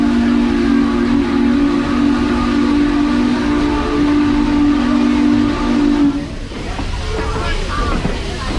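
Strasburg Railroad steam locomotive whistle blowing a long, loud, steady blast for about six seconds, then cutting off to leave rumbling train noise and background chatter.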